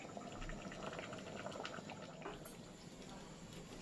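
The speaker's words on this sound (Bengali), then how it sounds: "আমার মাংস ফুটে উঠেছে" Mutton curry bubbling steadily in a covered pot, a dense, even simmer of boiling liquid with faint lid rattle, close and continuous throughout.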